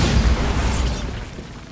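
Bombarda spell blast effect, a loud boom with a broad burst that fades and trails off over under two seconds, no voices.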